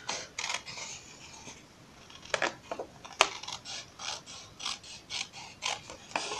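Scissors cut through printed paper in a string of crisp, quiet snips at an uneven rhythm, heard close up with no talking.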